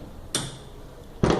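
A machine door is shut on what seems to be a machining setup, giving two sharp clunks about a second apart, close and loud against a quiet background hum.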